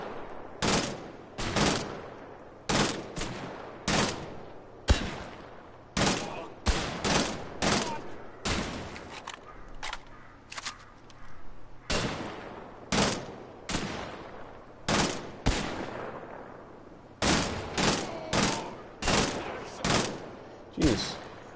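Gunfire in Wolfenstein: The Old Blood: around twenty loud, sharp shots ring out singly and in quick pairs, with short echoing tails and brief quiet gaps between them.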